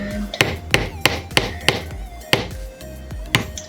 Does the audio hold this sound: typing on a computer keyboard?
no